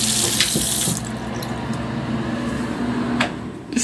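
Tap water runs steadily into a sink to rinse shot glasses, with a continuous close splashing flow and a few faint clinks, and no voices.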